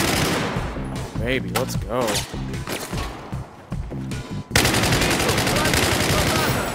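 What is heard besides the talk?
gunfire from Battlefield 4 video game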